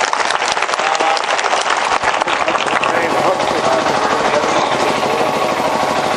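Sustained applause from a conference audience, dense and steady clapping filling the hall for several seconds, with some voices mixed in.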